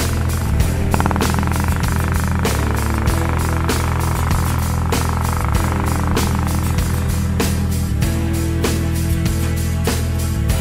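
A race car running at full throttle gives a loud, steady engine drone with a droning low hum and rapid mechanical clatter all the way through.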